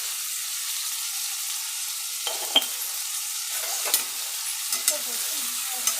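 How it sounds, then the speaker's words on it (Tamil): Brinjal sautéing in a pan for biryani kathirikai, a soft continuous sizzle under a handful of spaced spatula stirs and scrapes, close by and without speech. "நல்லா வதக்கிட்டு"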